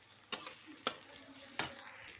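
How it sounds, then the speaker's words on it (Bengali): Ginger-garlic paste fries with onion in a pan, three sharp stirring scrapes over a quiet, low sizzle, close by and with no talking. "এর সাথে ভেজে নিতে হবে।"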